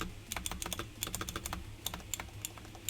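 Rapid typing on a newly built mechanical keyboard, with crisp, irregular clacky keystrokes close to the listener, moderately quiet over a low background hum.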